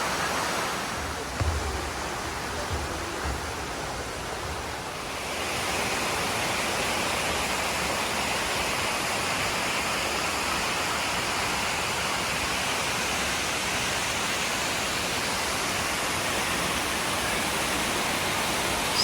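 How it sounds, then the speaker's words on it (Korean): Cheongnyong Waterfall in Seoraksan, Korea, in autumn: a continuous broad roar of falling water, softer for the first few seconds and then swelling to a full, steady rush that lasts throughout with no voices. "청룡 폭포입니다."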